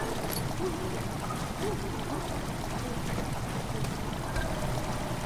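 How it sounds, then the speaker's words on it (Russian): Steady rushing water floods a room in a video game, a continuous gushing wash with faint trickling detail and no voices. "Вода начала наполнять помещение."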